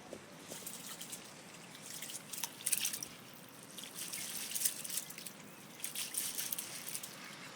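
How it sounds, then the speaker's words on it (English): Rice being washed in water gives soft, continuous sloshing with small drips and trickles, faint and close, with no talking. "It's essential to wash the rice thoroughly to remove any excess starch."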